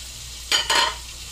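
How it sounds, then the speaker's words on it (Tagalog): Squash and string beans drop into a pan of shrimp stew with two quick splashing, sizzling bursts in close succession, followed by a quiet simmer. "Lalagay na natin yung kalabasa at sitaw."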